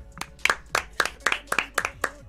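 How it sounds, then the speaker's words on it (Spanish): Studio audience clapping on an Argentine comedy talk show: a few sharp, evenly spaced handclaps ring out close by in a steady rhythm, sounding more like a handful of hands than a full room. "Un aplauso para Jor"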